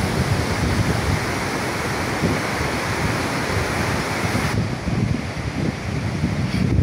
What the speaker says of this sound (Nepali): झर्ना साह्रै राम्रो झर्ना रहेछ।